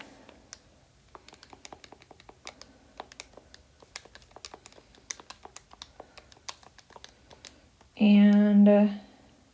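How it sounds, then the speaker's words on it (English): Numbers are typed on a computer keyboard in quick, irregular bursts of light key clicks, close and clear, before a short voice breaks in at the end. "I'm going to type all that stuff in and see what we get."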